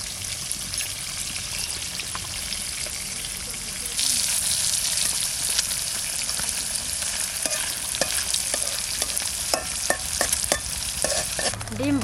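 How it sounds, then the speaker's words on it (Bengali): Duck eggs fry in oil in a pan with a steady sizzle, and the sizzle grows louder partway through. Scattered sharp clicks and scrapes from stirring or turning sound through it. "ডিম ভাজা হয়ে গেছে, এবার একে একে তুলবো।"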